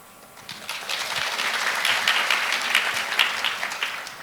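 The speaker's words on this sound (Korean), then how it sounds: "박수 감사합니다" Audience applause at a conference session, a steady wash of many hands clapping that swells after half a second and holds evenly throughout.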